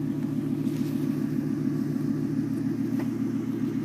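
Steady low rumble of a 1999 Ford Crown Victoria Police Interceptor exhaust at idle, close and continuous with no talk, holding an even throb throughout.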